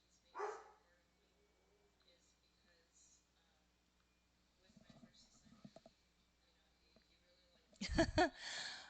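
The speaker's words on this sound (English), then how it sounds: "Excuse my dogs. They're being stubborn." Dogs bark in a couple of short, close bursts, one early and a louder cluster near the end, with quiet indoor sounds and soft speech between.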